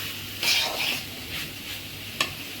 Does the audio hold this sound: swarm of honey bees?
no